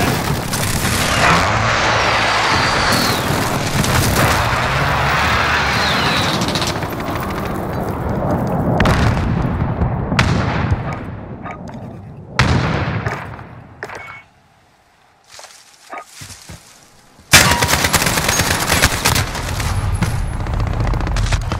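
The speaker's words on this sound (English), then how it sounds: "Enemy precision airstrike. Get down." Enemy precision airstrike in Call of Duty: Modern Warfare, with loud rolling explosions and heavy gunfire that break into scattered sharp blasts, a brief lull, then another thunderous barrage.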